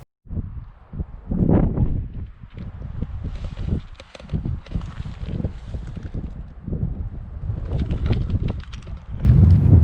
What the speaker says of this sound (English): The wind's really just picked up recently